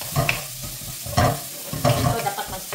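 Onion and garlic hit hot oil for a chicken and mixed vegetable stir fry, crackling and sizzling in bursts as the spatula scrapes and stirs the pan three times.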